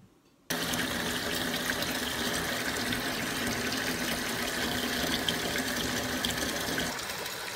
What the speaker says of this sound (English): fill the sink with very hot water and add 1 cup of bleach to